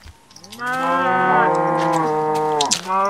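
Cows in the video game Minecraft let out a long, loud moo close by, a drawn-out tonal low that slides down at the end, preceded by a brief quieter call.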